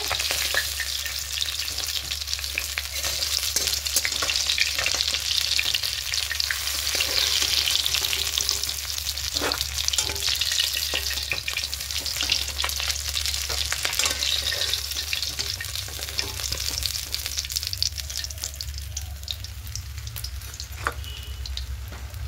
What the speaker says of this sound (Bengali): মাছগুলো একটু কড়া করে ভেজে নেব।